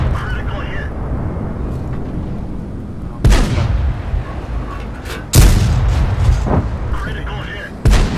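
A tank cannon fires in World of Tanks: three sharp, loud booms spaced a couple of seconds apart, each with a short rumbling tail, over battle noise while people talk.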